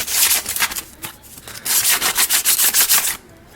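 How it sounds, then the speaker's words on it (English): Sandpaper rubbed by hand along the cut edges of a homemade NERF blaster part, a scratchy back-and-forth rasp in short bursts, then a steady run of about a dozen quick rhythmic strokes, close and clear with no talking. "I'm just going to use some sandpaper"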